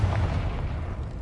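A Confringo blasting spell explodes in a Harry Potter video game, a loud, close, deep rumbling boom that holds and slowly fades across the whole moment.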